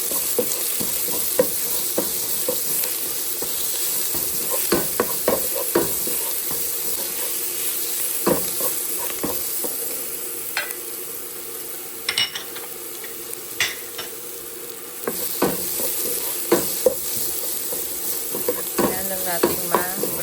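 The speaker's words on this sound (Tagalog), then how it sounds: "Ayan lang natin ma-brown ang bawang." Minced garlic sautéing in a pan for ginisang patola, a steady close hiss and sizzle broken by frequent scraping stirs and light utensil clicks throughout.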